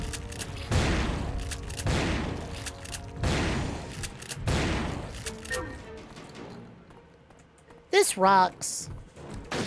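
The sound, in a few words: shotgun firing in Turok 3 video game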